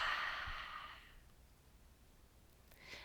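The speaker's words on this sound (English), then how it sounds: "Exhale forcefully, sticking out your tongue" A forceful open-mouth yoga exhale with the tongue out, one breathy rush of air at the start that fades within about a second, followed by quiet and a faint second breath near the end.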